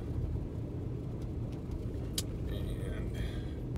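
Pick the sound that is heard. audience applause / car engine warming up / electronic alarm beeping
car engine warming up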